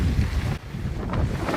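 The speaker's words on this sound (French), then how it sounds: "Vous avez vu la puissance du vent?" Strong storm wind buffets loudly and close, a rough low roar with gusty swells and a brief lull midway.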